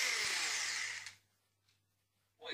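An electric kitchen whisk whirs loudly for about a second, then cuts out, leaving near silence before a brief noise starts again at the end.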